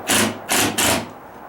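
A screw driven at an angle into a joist hanger during a wooden deck repair, three loud, close bursts of drilling and grinding, each about a quarter second, separated by short pauses.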